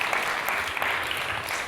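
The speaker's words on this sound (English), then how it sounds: "Give her a round of applause, because she can drive on both hands." Audience applause at a talk on trauma and transformation, a steady wash of many hands clapping that fills the whole short moment at moderate loudness.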